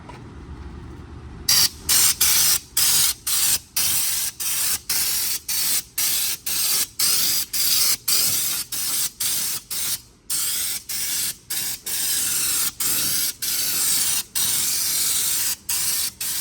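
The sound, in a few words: spray gun spraying paint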